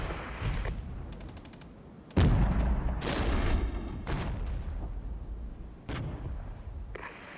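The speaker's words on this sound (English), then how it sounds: "We're getting a lot of fire here." Dense battlefield gunfire and booming artillery in the real-time strategy game Regiments, repeated shots and heavy blasts layered thickly with rapid bursts and a loud impact near the middle, continuing without pause.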